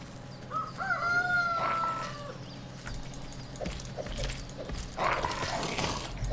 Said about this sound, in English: roosters, eh?